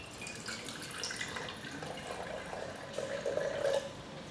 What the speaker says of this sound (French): Ensuite, donc, on remplit le bécher par 200 ml.